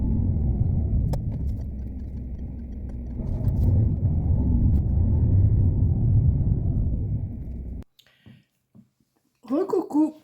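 Interior of a car while driving, a loud steady low rumble of engine and road noise lasting several seconds before cutting out, followed by brief quiet clicks and a short stretch of speech.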